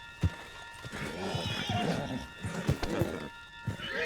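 A horse whinnies and its hooves clip-clop in the Red Dead Redemption 2 video game, a sharp neigh rising over irregular hoof thuds and saddle movement, fairly close, with brief game effects but no audible speech.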